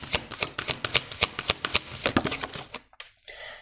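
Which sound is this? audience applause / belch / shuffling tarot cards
shuffling tarot cards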